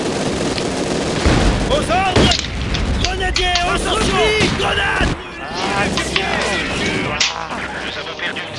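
Battle din from Company of Heroes 2 with a grenade explosion among gunfire, crashes and booms, dense and loud throughout, with voices shouting over the combat.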